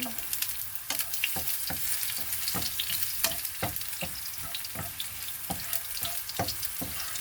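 Garlic frying in oil in a pan for an egg and bitter gourd dish, a continuous close sizzle broken by sharp, regular spatula scrapes and clacks about every half second, with no talk.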